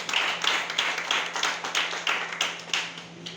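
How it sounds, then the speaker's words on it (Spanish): Scattered clapping from a church congregation during a sermon, a loose patter of hands rising and falling in small bursts over a steady low hum, fairly faint and without voices. "Dale un aplauso al Señor."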